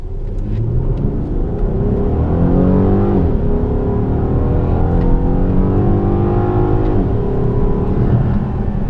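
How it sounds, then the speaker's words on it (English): A 2018 VW Passat GT engine hums with a loud, steady rumble at close range, its pitch rising and falling slightly as the revs change, with no one talking over it. "That's a nice sound coming from a Passat of all cars."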